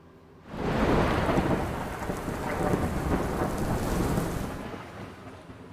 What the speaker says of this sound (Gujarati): અને હવે વાત કરીશું અનરાધાર વરસાદની